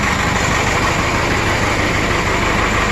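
Running 1996 Vermeer SC1102 stump cutter engine with a blow-by and misfire problem: a loud, steady, close exhaust roar with a constant broadband drone and no pauses.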